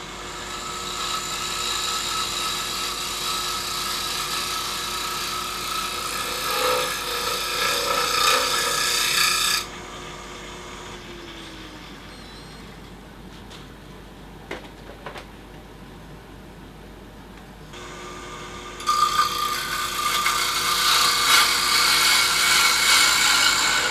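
Wood lathe turning a dark birch bowl with a carbide tool throws off fine shavings, a steady loud rasping drone that stops midway to a quieter motor hum and then resumes cutting.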